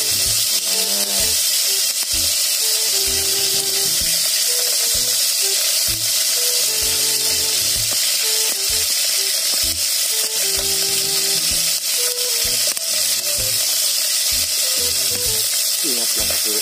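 Tulingan fish fries in hot oil with a constant, loud crackling sizzle that runs throughout, while music plays underneath.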